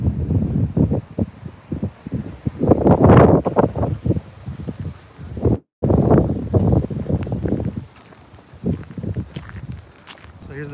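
Strong wind buffets the microphone at an outdoor war memorial, roaring in heavy, uneven gusts with one brief dropout, while someone talks over it.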